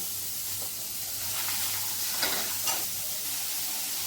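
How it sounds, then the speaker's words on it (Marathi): Chopped onions frying with a little butter in a pan for restaurant-style butter chicken give a steady close sizzle and hiss, with a couple of brief stirring scrapes midway and no talking. "व्यवस्थितपणे कांदा भाजून घ्यायचा आहे."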